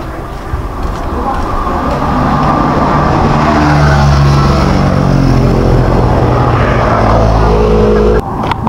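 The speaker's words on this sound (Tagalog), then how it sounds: "Punta ko yung tricycle natin doon sa kabila." A tricycle's motor runs steadily and loud at close range as it drives along, with a constant low engine rumble and road noise throughout, briefly dropping near the end.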